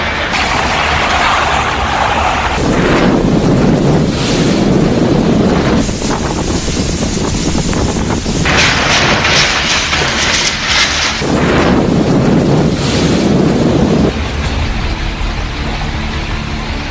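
Strong cyclone winds and ocean waves on the coast roar continuously for a long stretch, surging and easing in loud gusts with heavy rumbling wind noise on the microphone.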